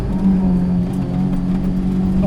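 A supercharged Honda S2000 track car making about 385 wheel horsepower drones loud and close at high revs, holding a steady, dense engine roar with no clear rise or fall in pitch.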